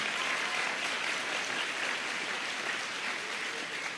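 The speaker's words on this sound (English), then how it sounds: "If you want, you need to clap a bit louder." An audience at a millionaire seminar claps steadily and fairly loudly, a dense, even wash of many hands that holds without pause and with no voices over it.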